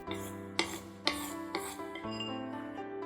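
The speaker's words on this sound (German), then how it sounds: "2 Teelöffel Speisestärke, 40 ml Wasser, gut rühren." A spoon stirs a cornstarch and water mixture for a sauce in a small bowl, giving close, quiet scraping strokes and a few sharp clinks against the side, repeated at a steady pace with no talking.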